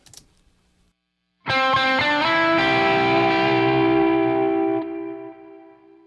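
An electric guitar chord rings out through a distorted amplifier and an MXR reverb pedal, struck after a near-silent pause, then sustained with a gritty tone and a reverb tail that slowly fades.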